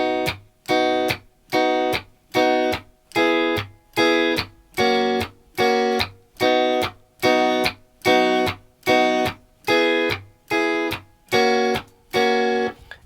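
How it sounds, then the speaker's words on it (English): Electric guitar playing a reggae rhythm with muted down strums and chords caught on the offbeat up strums, about fourteen short, sharp, evenly spaced chord stabs with clear gaps, played alone and close. "Another approach you can take is to actually do a muted down strum and then catch the offbeats on the up strum"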